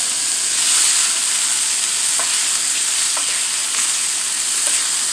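Mushrooms sizzle and crackle steadily in a hot pan over high heat with added fat, a broad continuous hiss with small pops scattered throughout, close and fairly loud with no voices.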